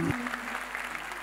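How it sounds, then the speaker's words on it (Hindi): A crowd at the YUCA 2022 award ceremony claps steadily for a folk singer receiving a Legendary Award, an even wash of moderately loud applause heard briefly over a faint hum. "जोरदार तालियां"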